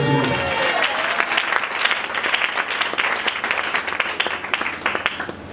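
A church congregation at a French-language prayer service bursts into sustained, loud applause and cheering for the Lord, a dense wash of clapping that fills the room for several seconds with voices mixed in.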